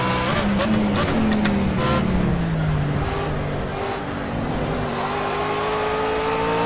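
A race car engine in the Project Cars video game drones steadily as the car runs along a track, its pitch sliding down and then climbing, loud and continuous throughout.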